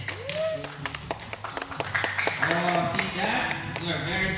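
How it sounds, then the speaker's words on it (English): Audience at a sea lion show clapping in scattered, uneven bursts, mid-distance, mixed with a sea lion's honking calls and crowd chatter. "Clap your hands."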